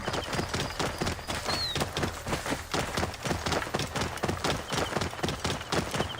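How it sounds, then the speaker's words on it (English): Rapid, steady clip-clop of galloping horse hooves in Assassin's Creed Origins fills the clip, loud and close, with a faint chime-like ringing over the top and no talking. "We have horses."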